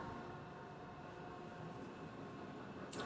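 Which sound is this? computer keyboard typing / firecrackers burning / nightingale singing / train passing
train passing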